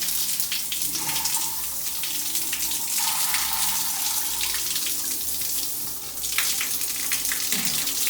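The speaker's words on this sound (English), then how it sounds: "It takes some time for the warm water to get here." Hot water runs steadily from a tap during plumbing work, a continuous close splashing gush into a sink that holds for several seconds with a brief dip near the end, with no talking.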